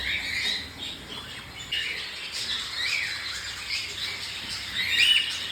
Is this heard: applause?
no